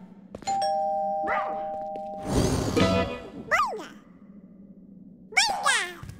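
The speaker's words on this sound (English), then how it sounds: "We ring the doorbell." A two-tone doorbell chime rings clearly in a children's cartoon, followed by a burst of excited vocal sounds and short squeaky voices.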